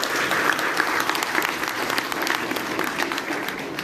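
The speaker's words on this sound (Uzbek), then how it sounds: "O'zingiz uchun bitta olqishlab qo'ying o'zingizni." Audience at an open corporate presentation breaking into steady, dense applause that runs evenly throughout, loud and close, with faint voices mixed in.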